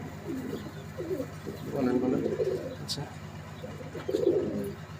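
Imported Pakistani Teddy pigeons in a loft coo in low, throaty, repeated phrases that swell and fade nearby, with someone briefly speaking over them.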